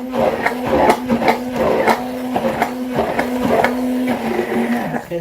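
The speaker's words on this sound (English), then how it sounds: "So let's blend it and see how we're going to put it together." A blender runs continuously, whirring as it purées plantain for fufu, with a steady motor hum and rhythmic surges and knocks as the thick mixture churns, close and loud throughout.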